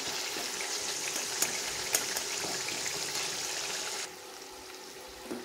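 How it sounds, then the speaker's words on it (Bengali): Water poured into a fish roe fritter curry cooking in a pan, a steady hissing pour and sizzle that cuts off partway through, leaving a quieter simmer. "জল দিয়ে আরও একটু ভালোভাবে কিছুক্ষণ কষাবো।"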